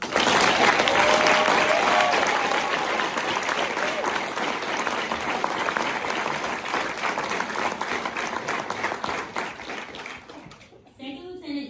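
An audience at a US Army graduation ceremony at Fort Campbell, Kentucky applauds the graduating AG BOLC classes with dense, sustained clapping that slowly fades, then a voice starts speaking at the very end.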